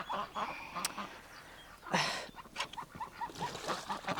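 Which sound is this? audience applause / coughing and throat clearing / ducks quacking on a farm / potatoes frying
ducks quacking on a farm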